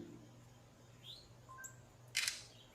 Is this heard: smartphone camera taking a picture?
yes